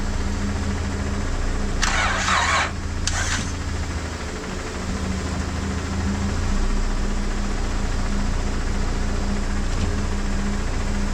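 A manual six-speed Acura TL sitting unused for two years cranks twice in short bursts, then settles into a steady, loud idle that keeps running close by.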